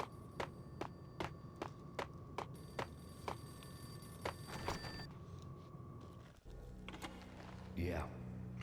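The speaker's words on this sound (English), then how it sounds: "The payphone started to ring." A payphone in the video game Max Payne rings in a steady series of short repeated bell bursts, fairly close and loud, then stops before a brief electronic shift near the end.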